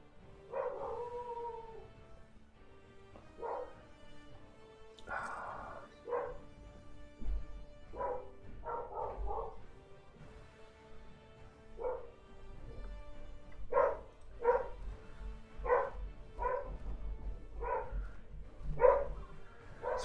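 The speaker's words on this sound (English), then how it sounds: "Sorry about the noise of my dog if you can hear it." A pet dog barks and yips repeatedly in the background indoors, a string of short, fairly distant barks with a few whiny howls, spread unevenly across the stretch over a low hum.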